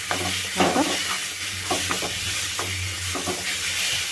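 A chili spice mix fries in oil for a North Karnataka red chili and peanut chutney, with a continuous hissing sizzle broken by rhythmic scraping stir strokes, close and fairly loud.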